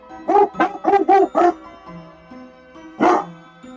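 A dog in the video game Deltarune barks in a quick burst of five short yips, then once more after a pause, loud and close over a soft sustained background tone.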